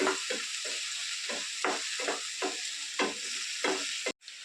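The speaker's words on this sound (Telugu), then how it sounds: "మన గుడాల్లో ఎక్కువ ఫ్రై చేయొద్దండి ఉల్లిపాయల్ని" Sliced onions fry in a pan with green chillies and tempering seeds for a black-eyed pea chaat, a soft continuous sizzle broken by regular scraping stirs roughly every half second, close and moderately loud.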